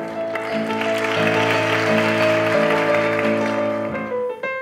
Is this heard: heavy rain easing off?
no